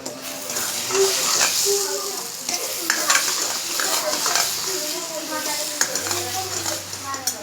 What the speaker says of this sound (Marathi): आता आपल्याला त्यात मसाला घालायचा आहे आणि स्वादानुसार मीठ घालायचं आहे आणि त्याला चांगलं परतून घ्यायचं आहे।